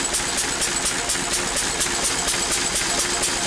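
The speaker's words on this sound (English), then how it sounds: "it's not fair on this engine, it's an old engine, and when the oil gets warm you can hear it's got a slight knock" An old Lister D engine with a slight knock runs steadily on a dyno test, giving a loud, continuous mechanical drone with a fast, regular ticking pulse.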